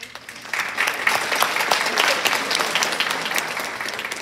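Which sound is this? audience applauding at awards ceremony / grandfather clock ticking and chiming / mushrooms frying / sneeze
audience applauding at awards ceremony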